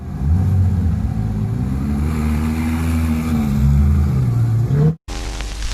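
A Ferrari LaFerrari supercar engine holds a loud, rising and falling rev close by for several seconds, pitch climbing toward the end before a sudden cut and a brief rough restart.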